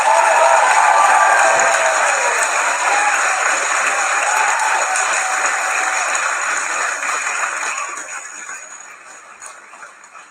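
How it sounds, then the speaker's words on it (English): A crowd gives a round of applause and cheering for Ministry Music: loud, dense clapping and shouts that hold steady at first, then gradually thin and fade away toward the end. "let's give a round of applause for Ministry Music"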